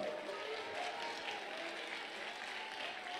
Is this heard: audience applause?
yes